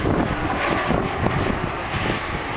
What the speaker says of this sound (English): Notice how quiet the airplane is while passing show center.